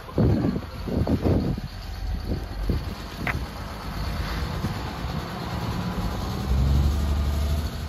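A 2005 Bluebird school bus with a CAT C7 turbo diesel pulls away, its engine rumble steady and moderately loud with a few knocks and clunks early on, holding a low drone as it drives off.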